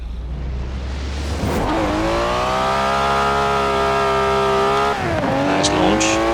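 A 1967 Ferrari 330 race car launching in Forza Horizon 4: a loud, close engine roars and climbs in pitch with a brief tire squeal, then drops sharply at a gear change before revving up again.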